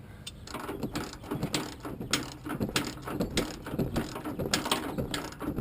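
A ratchet clicks in quick, irregular bursts while tightening the cam bolt on an F150 control arm, close and fairly loud with no talking.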